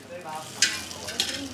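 Banana cakes fry in hot oil at a floating market stall in Pattaya, Thailand, making a steady close sizzle broken by brief scraping stirs.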